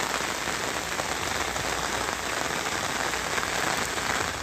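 Heavy rain pours steadily over a flooded residential area in Satara, Maharashtra, a dense, even hiss of falling water with no pauses, fairly soft and with no voices.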